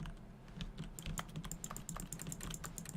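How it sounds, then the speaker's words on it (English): Rapid keyboard typing clicks in The Stanley Parable video game, a busy irregular patter of close keystrokes heard alone without talk. "it's just making typing noises"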